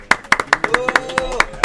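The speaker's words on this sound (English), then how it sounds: "Claps all around" Sharp, close handclaps ring out in a steady rhythm at a Halvvejen 2022 gaming event, about a dozen distinct claps in quick succession with a faint tone underneath.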